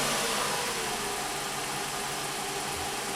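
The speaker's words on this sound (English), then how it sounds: "Alright, we'll start the car." A Toyota Sienna engine running at a steady idle after starting, a close, constant broadband hum and rumble with no talk.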